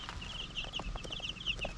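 Young chickens on an off-grid homestead in the Canadian wilderness cluck and peep softly in a steady, close chatter, with light scuffling underneath and no voices.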